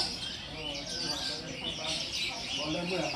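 Small caged birds at a Hong Kong bird market keep up a dense, steady chorus of high chirps and tweets, with a busy indoor murmur of voices underneath.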